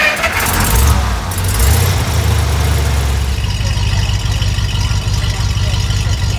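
A 1955 Dodge pickup's first V8 engine runs close by with a steady low rumble and a couple of throttle blips early on.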